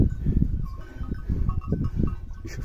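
Goats, including billy goats, bleat repeatedly at close range on a mountain trail, several short cries overlapping in an uneven rhythm.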